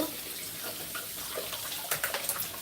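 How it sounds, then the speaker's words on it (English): Water runs from a tap in a kitchen while green juice is being made, a steady rushing splash that stays close, with a few sharper clatters toward the end. "Running water."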